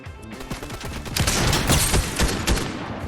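Rapid bursts of gunfire from a console shooter video game crackle loudly and close, overlapping shots forming a dense fusillade with no talking.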